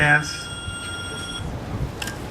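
A telephone rings with a bright electronic chime at the start and again briefly near the end, its tone fading out under a low, steady background of a crowd during an outdoor festival talk.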